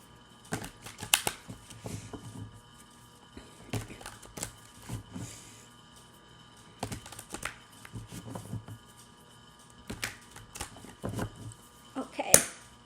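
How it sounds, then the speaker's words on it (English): A deck of tarot cards gets a ruffle shuffle: short bursts of rapid crisp card clicks repeat every few seconds, close and fairly loud, with quiet gaps between them. "let's get the cards a good ruffle shuffle this morning"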